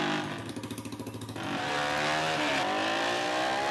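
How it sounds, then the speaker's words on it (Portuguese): A Yamaha Fazer 250 motorcycle engine idles with a rapid pulsing putter, then revs up into a loud sustained whine close by. "Vamos subir a moto então lá pro meu quarto"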